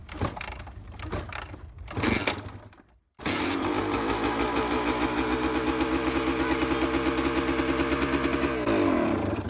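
A motorcycle kick-started: a few mechanical clunks and ratcheting kicks, a brief pause, then the engine catches and runs at a fast, steady, loud idle close by.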